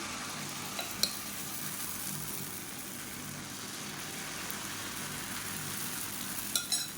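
Dosa batter sizzling on a hot pan, a steady hiss with a couple of faint clicks at the start and a few small scrapes near the end, no speech.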